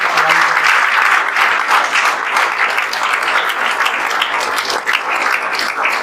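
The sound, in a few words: audience applause for a student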